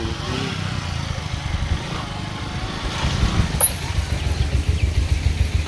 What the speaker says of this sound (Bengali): এখন বাইক রাইডে যাচ্ছি